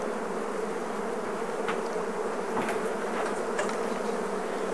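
A dense mass of honey bees hums around an open Langstroth hive during an inspection, a loud, unbroken buzzing drone with brief flashes of individual bees flying close by.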